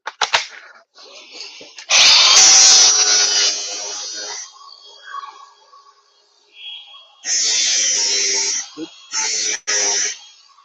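A power grinder cuts off a dangling plastic piece of a leaf vacuum mulcher, whining loudly in several close bursts of a few seconds each, with quieter handling noise and brief talk between them.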